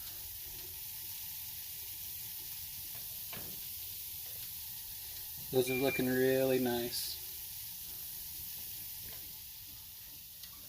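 Parmesan cheese crisps sizzle in an oven with a faint, steady hiss throughout, while a person briefly speaks partway through.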